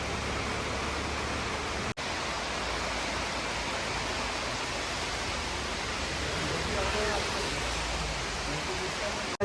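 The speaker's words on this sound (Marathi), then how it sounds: "मग तिथेच पाऊस आला बघा" Heavy rain falls outdoors near a school on the first school day, making a dense, constant roar that fills the scene from start to finish, with a brief cut early on.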